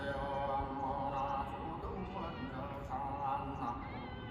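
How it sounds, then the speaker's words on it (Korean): A cat meows repeatedly and drawn-out at the front yard of a free teahouse, close and clear, with a person's voice mixed in between the calls. "이곳 터줏대감인 듯한 고양이를 발견했습니다"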